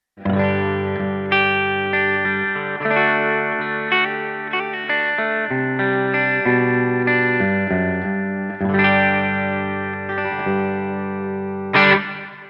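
An electric guitar plays chords and picked notes with a ringing, effects-laden clean tone and light shimmer in a 90s grunge style, sustained and close, with no voices.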